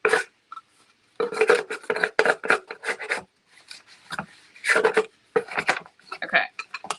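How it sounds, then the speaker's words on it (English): A Celebration Company scraper pushes craft material up into the roof line of a birdhouse during a makeover, giving close, uneven scraping and rubbing strokes in short bursts, with a voice talking intermittently. "I'll even grab my scraper, my Celebration Company scraper, to help push that up into that roof line."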